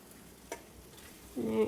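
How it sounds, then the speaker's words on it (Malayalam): Curry being stirred in a pan, with a faint light tap and then a short, soft sizzling scrape near the end. "നന്നായിട്ടൊന്ന് ഇളക്കുക"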